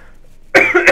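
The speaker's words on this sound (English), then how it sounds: "Pardon me while I cough." A single sharp, close cough bursts out after a moment of near silence, followed by a smaller second catch of the throat.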